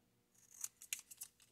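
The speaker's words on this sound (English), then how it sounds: "you're going to cut them all out using the templating shears" Templating shears cut through paper stained glass templates in a quick series of about five crisp snips, close and clear against a quiet background.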